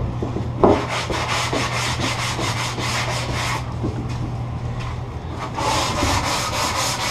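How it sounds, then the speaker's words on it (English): A sanding sponge is rubbed across a wooden corner in a run of quick back-and-forth swipes, a close, rasping scrub with a rhythmic pulse, over a steady low hum in the background. "with a few swipes of the sanding sponge, just on the corner, doesn't take much"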